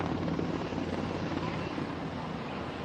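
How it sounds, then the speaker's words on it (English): Helicopters flying overhead during street unrest in Los Angeles make a continuous, heavy rotor and engine rumble that stays loud and steady throughout. "I hear helicopters."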